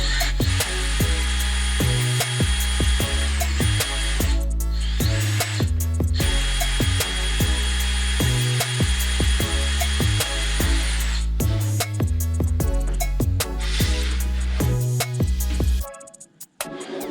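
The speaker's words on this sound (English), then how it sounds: "need to drill holes in the PVC pipe" An electric drill boring holes in PVC pipe runs loudly for long stretches with brief pitch dips as it bites into the plastic, then winds down near the end.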